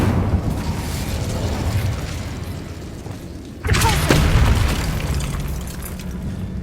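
The Incendio fire spell in the video game Hogwarts Legacy bursts with a sudden loud whoosh and boom over a low rumbling game ambience, then settles into a sustained roar with no talking.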